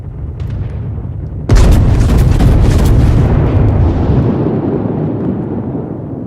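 A single heavy, booming salvo from the main battery of the battleship USS West Virginia in World of Warships, loud and close, its deep rumble slowly fading over several seconds.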